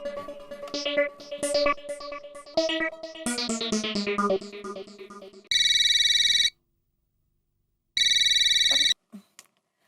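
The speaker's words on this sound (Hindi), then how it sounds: "अरे बबीता जी, आपको कैसे पता चला मैंने फोन किया है?" A telephone rings for an incoming call at a shop, two loud electronic ring bursts separated by a pause, following a stretch of background music.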